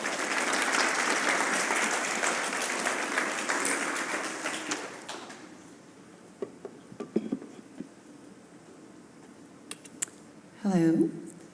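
An audience bursts into loud, sustained applause welcoming visiting artist Christine Forni at a McHenry County College artist talk. The clapping fills the first five seconds, then thins to scattered claps and rustling, ending in a brief burst of handling noise.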